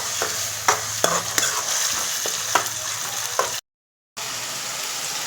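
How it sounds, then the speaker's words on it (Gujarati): A spoon scrapes and knocks against a frying pan while stirring a soya chunk curry over a steady sizzle, in irregular strokes, cutting out briefly near the end. "અને હલાવી નાખી સરસ મજાનું મિક્સ કરી દઈએ."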